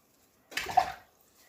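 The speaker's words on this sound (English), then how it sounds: "Get the soap, put it in the water, and then I rub some of the, just round it on the soap like that." A paintbrush is rubbed and swished in soapy water, one short wet splash and swirl lasting about half a second, close and fairly quiet, with silence either side.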